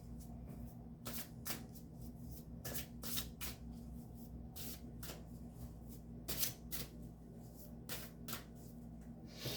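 Oracle cards riffled and shuffled by hand in quick repeated bursts, close and fairly quiet over a steady low room hum, with no talking.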